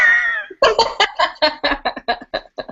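A cat in a house gives a long drawn-out meow, then a quick run of about ten short, chirpy clucking calls in a steady rhythm, close and fairly loud.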